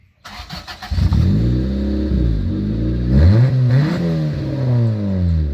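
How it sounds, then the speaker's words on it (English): A Honda Del Sol engine cranks and catches, then settles into a steady idle broken by several rising and falling revs, close and loud with no talking. "we'll go ahead and give you a quick startup and rev of the Honda Del Sol"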